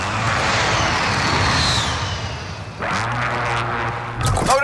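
An aircraft roars overhead for a loadout drop in a video game, a loud engine drone that sweeps past and fades, followed by lower rumbling and a burst of noise at the end.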